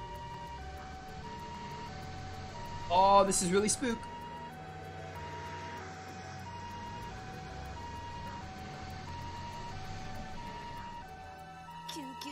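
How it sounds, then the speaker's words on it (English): Distant ambulance sirens in the video game Legend of Heroes: Trails to Azure wail in a repeating two-tone pattern throughout, while a voice briefly speaks over them near the start. "Those are sirens."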